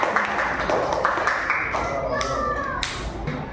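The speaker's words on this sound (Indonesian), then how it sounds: "Tepuk tangan." Children in a classroom clap their hands together in short uneven bursts, close and lively, with speech around the claps.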